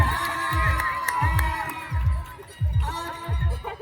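Crowd of spectators cheering and clapping at a boys' school-cluster kho kho tournament match, loud rhythmic bursts of applause with shouting children throughout.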